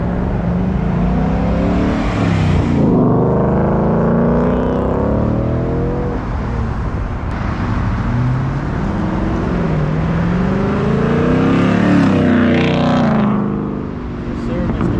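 Cars pulling out of a local car meet: loud engines rev and accelerate past in rising and falling sweeps, one after another, over crowd chatter and voices.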